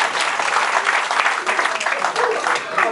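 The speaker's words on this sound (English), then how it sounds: "A round of applause for Jessica" A conference audience at a Samsung notebook presentation applauds Jessica with full, sustained clapping that fills the hall and stays loud and steady throughout, with some voices mixed in underneath.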